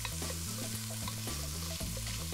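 Chopped bacon frying in a soup pot, a steady loud sizzle with soft stirring scrapes and faint background music.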